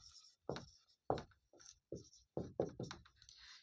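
Pen or chalk scratches out a geometry proof about a triangle during a Class 10 maths lesson, in short separate strokes with brief pauses between them.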